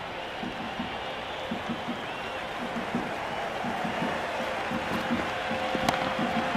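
Stadium crowd at an RCB vs GT IPL cricket match in Bengaluru, a steady dense roar with rhythmic chanting pulses and scattered claps running throughout, moderately loud and continuous.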